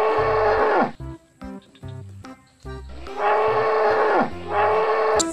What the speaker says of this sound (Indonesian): yang ini namanya kerbau loh teman-teman